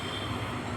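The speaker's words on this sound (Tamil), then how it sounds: "வந்தே பாரத் ட்ரெயின்" Vande Bharat train in the Indian Bikes Driving 3D video game, a steady loud broadband rumble of rolling rail noise with no pauses, heard alone without talk.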